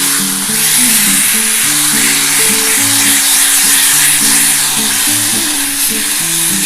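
Garlic-ginger paste sizzles loudly and steadily in a pan of fried potatoes for a soyabean and potato curry, a constant close-up hiss with music playing underneath and no talking.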